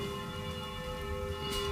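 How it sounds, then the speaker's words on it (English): Distant church bells ring with steady sustained tones over a low city rumble in central Rome, fairly faint and continuous throughout. "if you can hear loud bells in the background, that's because we're in the centre of Rome and there's lots of church bells"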